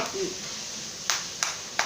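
A small child claps hands at a children's Bible school, three sharp separate claps spaced about a third of a second apart, fairly close, with faint room noise between them.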